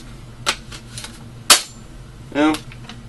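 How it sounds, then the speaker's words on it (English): A magazine is pushed into a Tiberius T15 gun, giving a few sharp plastic-metal clicks and a short scraping rattle as it seats, separated by brief pauses in a quiet room. "And then, load it up with a mag."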